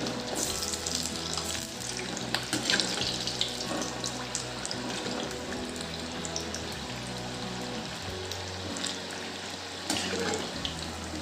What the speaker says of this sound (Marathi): गिलकेची भजी तेलात टाकून झाली आहे आता आपण उलथून घेऊ अशी